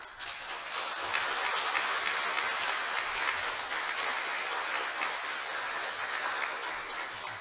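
Applause from a staff retreat audience at Keimyung University Dongsan Medical Center welcomes a speaker, a steady, dense crowd clapping that holds at even loudness throughout, with no talk over it.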